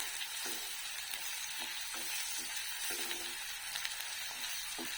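Onions or vegetables sautéing with salt in a pan give off a steady, soft sizzle, with light stirring taps now and then and no voices.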